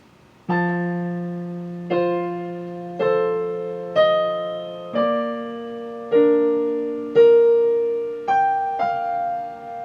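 A solo piano plays a measure, about nine notes or chords struck roughly once a second, each ringing out and decaying, close and clean with no talking.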